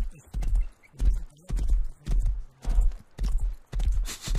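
Horse hooves clip-clopping in a video game, a steady walking rhythm of close, fairly loud paired hoof strikes repeating about every half second, heard alone.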